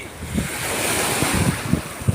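Sea waves washing onto an Italian shore after a night of rough water, a steady broad roar of surf with repeated soft thuds of breaking water and gusts of wind buffeting the microphone.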